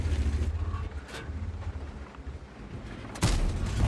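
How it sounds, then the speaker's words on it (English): Tank cannon in a tank combat video game firing blind shots toward bushes, heavy booming blasts over a steady engine rumble, with one sharp loud report near the end. "I fire a couple of blind shots towards the Lancenc's last known position in the bushes"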